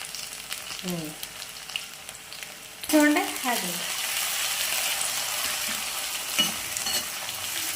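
Curry leaves drop into onions frying for a broad bean and brinjal curry, setting off a burst of loud crackling sizzle that continues under spoon stirring, with brief voices in the background.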